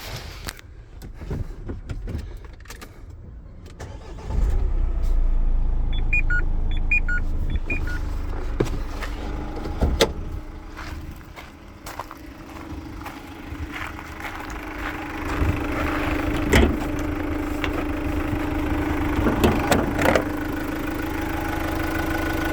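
A 2019 Renault Master L2H2 van's engine turns over after a few quiet clicks and settles into a steady idle, close and fairly loud, with its rumble rising slightly and a few sharp knocks toward the end.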